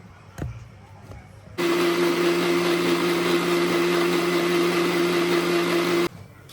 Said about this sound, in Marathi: आता मिक्सर करून घेऊ.